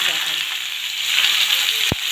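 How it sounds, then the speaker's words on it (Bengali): Potatoes frying in hot oil with cumin seeds and bay leaf give a steady, close sizzle and hiss throughout, with one short sharp knock near the end. "এবার তেলের মধ্যে সাদা জিরে আর তেজপাতা দিয়ে এবার আলুগুলো আমি দিয়ে এবার আলুগুলো ভাজবো।"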